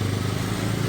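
A motorcycle engine runs at a steady, even drone throughout, close and continuous, with no voices heard.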